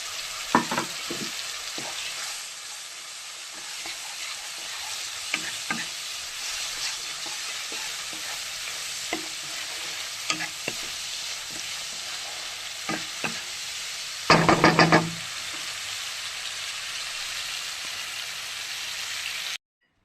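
Tomato and green chili frying with mustard seeds in a pan, a steady close sizzle with scattered pops and stirring clicks, one louder burst of crackling midway, no talk.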